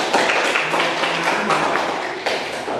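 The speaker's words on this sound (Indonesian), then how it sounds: "Oke, tepuk tangan dulu." A classroom audience claps in a short, scattered round of applause. Sharp hand claps sound close and uneven, and the clapping fades slightly toward the end.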